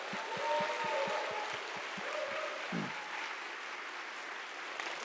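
Audience applause at a Christian lecture, an even wash of clapping with a steady rhythmic beat of claps running through the first few seconds, moderately loud and unbroken by talk.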